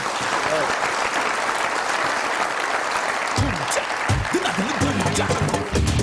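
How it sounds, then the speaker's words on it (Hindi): A studio audience at a Pakistani TV comedy show applauds loudly and steadily, a dense wash of clapping that continues throughout, with a voice briefly heard over it near the end. "बहुत सारी तालियां"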